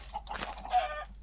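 Chickens cluck in a few short clipped bursts in the video game Minecraft, fairly faint and alone against a low steady hum.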